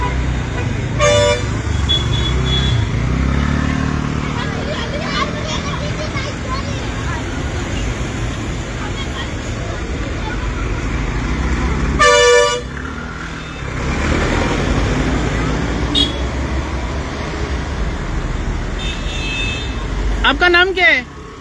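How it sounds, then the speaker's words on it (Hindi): Car horns honk repeatedly amid a traffic jam, short sharp toots scattered over a constant rumble of idling engines and road noise, with people talking throughout. "ट्रॅफिक जॅम जाल्लो आसा।"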